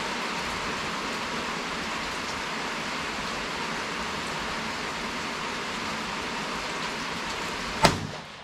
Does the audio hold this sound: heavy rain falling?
yes